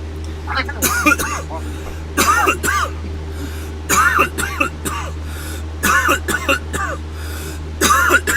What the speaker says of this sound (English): At least I'm not the only one coughing.